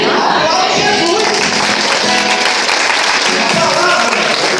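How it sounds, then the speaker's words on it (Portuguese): A church congregation applauds during a sermon, dense continuous clapping filling the room, loud and steady throughout with voices mixed in. "Aplaude Jesus"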